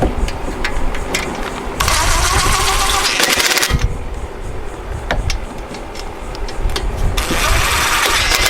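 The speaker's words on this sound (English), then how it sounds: "So we're just going to wind it on and see what comes out." A Generac generator, once abandoned and now fitted with a replacement carburetor, is cranked over in loud repeated pulls, with bursts of engine noise rising and falling across the clip and no talking.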